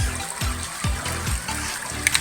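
Water falling and trickling where it drops into a river spot used for eel hunting, a continuous splashing flow with repeated low gurgling surges, close and without talk.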